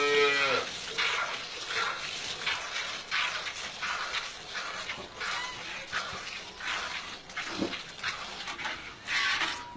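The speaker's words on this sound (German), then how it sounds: "Meine Kühe sind nicht schwierig zu melken." Dairy cows on a farm with a steady wash of barn noise, broadband rustling and clatter throughout, with a brief low moo-like call near the start and another partway through.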